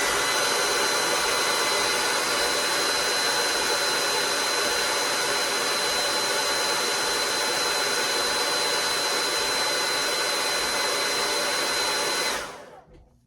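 A hot air blower roars at a steady, loud, unbroken pitch while heating a part during a parts swap, then winds down quickly at the end.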